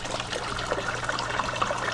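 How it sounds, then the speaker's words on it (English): Water trickles through a hole into a bucket in a steady, soft, continuous dribble with small splashy flickers throughout. "water is coming in through that hole"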